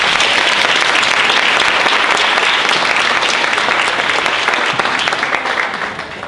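Sustained applause from an audience honoring military spouses at a city veterans appreciation event in DeSoto, steady and full throughout, tapering slightly at the end.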